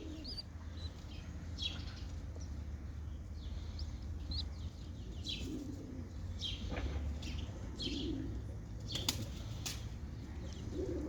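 Kerkük pigeons, a breed with feathered feet, flutter and coo softly in a home garden, with scattered wing flaps and faint chirps at low volume against steady background noise.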